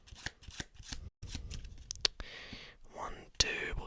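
Playing cards riffle and shuffle in several quick bursts, close and crisp, with soft whispering and handling noises between them.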